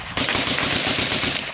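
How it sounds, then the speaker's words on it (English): An AK rifle fired at an outdoor shooting range, a loud, close burst of rapid automatic fire with evenly spaced cracks lasting just over a second. "You guys shooting out here?"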